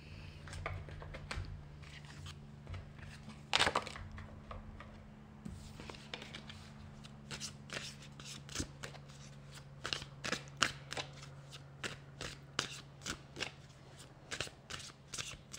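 Tarot cards are shuffled close by, a quiet run of riffling flutters and crisp snaps arriving in irregular bursts over a steady low hum.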